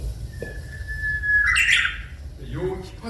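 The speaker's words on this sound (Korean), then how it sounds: "이 휘파람새 소리가" A Korean bush warbler sings on Hallasan, giving a long, clear, steady whistle that breaks into a bright, rapid flourish, close and loud over a low background rumble.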